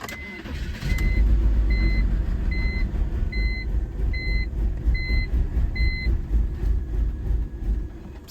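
A BMW E46 with its key turned to ignition gives a steady series of about seven electronic warning chimes, while a loud, continuous low rumble of cranking runs underneath throughout.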